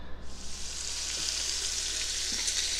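Onions and bacon frying in a pot as the base for corn chowder give a steady, bright sizzle at moderate loudness, continuous throughout with no talking.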